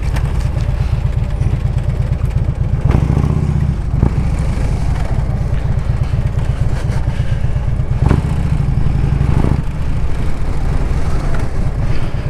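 A couple of motorcycles ride away, their engine rumble heard over continuous wind noise from the rider's own moving bike, with a few clattering bumps along the way.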